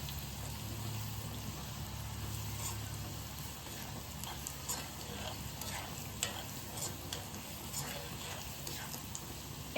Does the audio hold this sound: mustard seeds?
yes